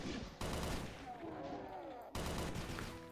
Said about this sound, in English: it's basically just the AK from Elysium, but it's shooting explosive bullets